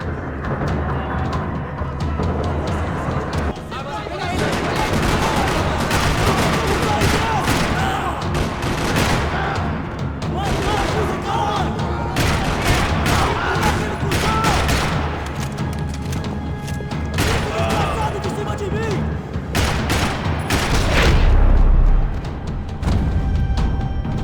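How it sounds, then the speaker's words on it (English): Sustained gunfire rattles through a parking lot in the video game Max Payne 3, dense bursts of automatic weapons and heavy booms layered over a constant action soundtrack, loud and close, with one louder blast near the end. "Another parking lot rattling with gunfire."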